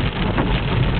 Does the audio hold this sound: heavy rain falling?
yes